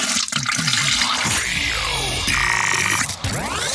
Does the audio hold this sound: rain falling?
no